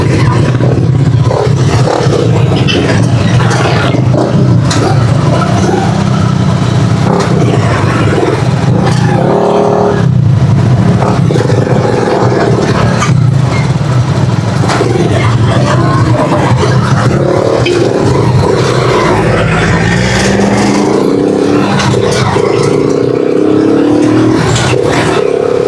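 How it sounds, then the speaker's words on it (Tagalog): Steady road traffic with cars and motorcycles passing continuously near a market area, engines revving and accelerating close by, with clatter and scraping mixed into a loud, constant roar. "Traffic."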